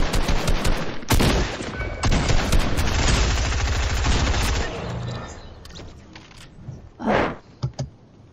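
Video game shotgun fire, a dense volley of loud blasts and rapid clattering shots up close, thinning out into a few scattered bangs and quieter rustles.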